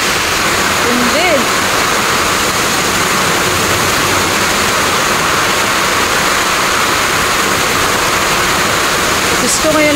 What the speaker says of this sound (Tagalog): ngayon lang umulan ng ganito kalakas dito sa amin